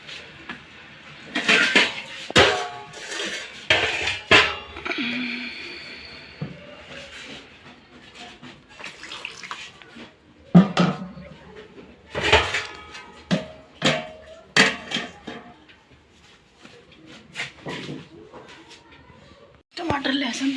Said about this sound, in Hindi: ये प्याज टमाटर सब धो लेती हूँ,